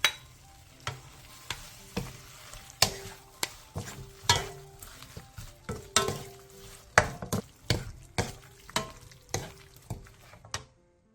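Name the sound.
stir-frying aged kimchi with perilla oil, green onion, onion, chili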